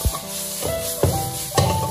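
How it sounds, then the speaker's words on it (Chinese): Onions stir-fried over high heat in a wok for onion and pork, a loud steady sizzle punctuated by three rhythmic scraping tosses of the spatula, close up with no talking. "洋葱下锅之后继续翻炒，在这里要开大火翻炒"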